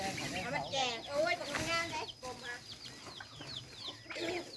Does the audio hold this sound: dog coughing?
no